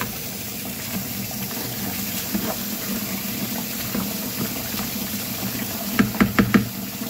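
Rice being washed under a running tap for chicken mandi, a soft steady stream of water with faint splashing and a few brief clatters near the end, quiet and without speech.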